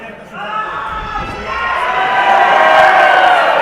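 A wrestling crowd at a live show yells and cheers, the roar swelling louder toward the end, with a commentator's voice talking over it.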